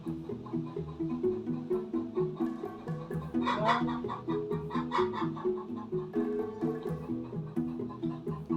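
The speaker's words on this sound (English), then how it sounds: "Hear the chickens." Hens cluck and chatter nearby in a garden in an uneven rhythm, with one louder squawking burst partway through, amid a low background drone.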